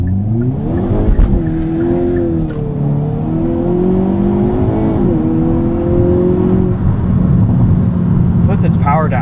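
A 2022 Hyundai Kona N launching hard off the line with slight wheel hop, its engine note climbing steadily through the gears, loud and close from inside the cabin, with someone talking over it.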